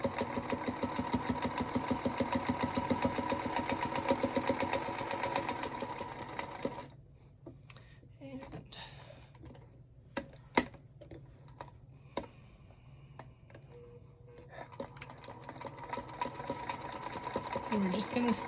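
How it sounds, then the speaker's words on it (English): A sewing machine stitching fabric for a Christmas tea wallet runs in a fast, steady buzzing rhythm, pauses with a few clicks, then resumes a short back-stitch run, all close and loud while a person talks over it. "we're just going to stitch to our mark, and then we're going to back stitch."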